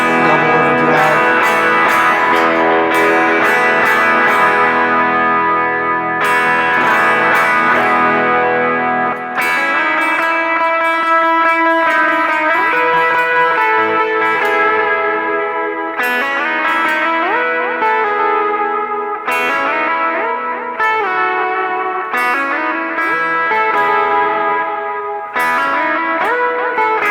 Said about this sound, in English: Got some gains, a little more double overdrive.